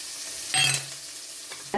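Kalani pulicharu, a tamarind broth with turmeric and fenugreek powder, boils in a pot with soft bubbling and sizzling, lifting in two short louder bursts, the clearest midway and another near the end.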